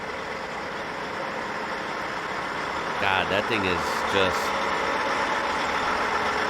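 A Trojan 8870 heavy transport truck engine idles with a steady, low rumble throughout, while a person speaks briefly partway through.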